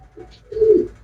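A single pigeon gives a brief, close, low coo, a short soft note followed by a fuller rolling one, with no voices.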